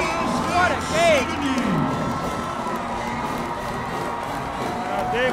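A high school basketball state playoff crowd roars and cheers loudly after a close game, with shouts and whoops rising over a sustained wall of noise as a commentator talks over it.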